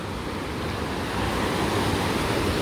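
Sea waves rolling onto the shore as a steady, loud, broadband rush of surf that swells slightly toward the end, with no voices.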